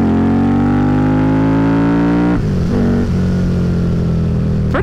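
A custom Harley-Davidson V-Rod motorcycle revs up loud and close, its engine pitch climbing steadily before an abrupt shift drops into a rougher, lower roar that holds on.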